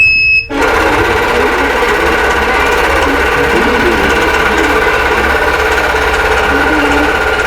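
A sewing machine stitches quilt blocks in a steady, continuous run that starts after a brief pause and holds loud and close to the end.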